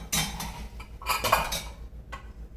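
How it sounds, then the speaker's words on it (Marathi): Metal clatter as a lid is set onto a hot pot of black chana kadha: a few close, bright clinks and scrapes in quick succession, followed by a softer tap. "मी ह्याच्यावर लगेच मला झाकण ठेवायचे"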